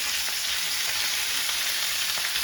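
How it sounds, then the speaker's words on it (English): Seasoned pork browns in a hot pan with a steady, close sizzle and crackle, even and unbroken, with no voices. "the object here is going to be to brown off the pork"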